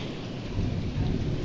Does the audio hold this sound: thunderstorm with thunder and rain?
yes